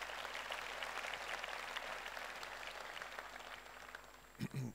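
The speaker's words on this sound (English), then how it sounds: "I think they deserve a great round of applause" An audience at a truck launch evening applauds, a broad, steady roar of clapping that slowly fades, with a few louder bumps near the end.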